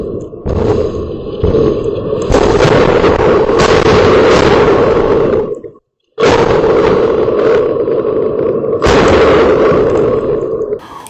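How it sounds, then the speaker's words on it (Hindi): Hezbollah missile strikes hit Maalot-Tarshiha, Israel, with loud, sustained booming and roaring blasts, sharp bursts at the start, a brief silent gap midway, then more heavy rumbling explosions. "यहां पर देखिए वो लम्हा मालोट तारशिया में जब हमला हुआ हिजबुल्लाह की मिसाइलों का"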